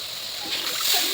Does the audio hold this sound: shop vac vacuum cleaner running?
no